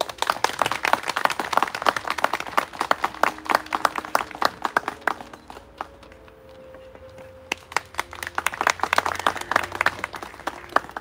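A crowd claps at a Korean memorial ceremony for fallen labor activists, with brisk dense applause that thins into a quieter lull around the middle before building again, no voices over it.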